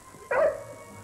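A fighting dog gives one sharp, loud yelping bark that trails into a brief whimper, heard alone against a quiet background.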